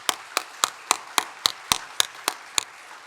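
A church congregation at an ordination thanksgiving service claps in unison, about ten crisp, evenly spaced claps in a steady beat, with no talk over them.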